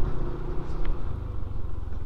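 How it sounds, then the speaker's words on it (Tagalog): Vehicles, including what may be a motorcycle, passing on a narrowing road near a construction site in the Philippines, a continuous low engine rumble at moderate distance with a brief higher whine partway through. "Ayun, may mga sasakyan po."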